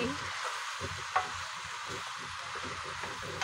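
Spoon stirring chopped eggplant and vegetables in a hot pan, soft scraping and tossing over a steady sizzle, close and continuous.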